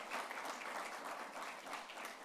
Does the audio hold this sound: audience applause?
yes